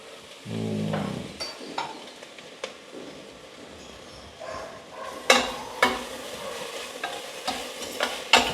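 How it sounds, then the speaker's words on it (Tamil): Ingredients for crab curry being sautéed in a pan, with a low steady sizzle and a run of repeated stirring scrapes and knocks that grow louder toward the end, close and without talk. "நண்டுக்கான வதக்கிங் வேலையில் நடக்குது"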